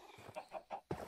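Minecraft chickens clucking, four or five short soft clucks in an uneven rhythm, close and quiet, with no other sounds.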